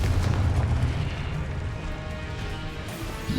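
A Confringo fire-blast spell in a Harry Potter-style video game, heard as a loud, sustained rumbling roar that fills the whole stretch without any distinct single bang.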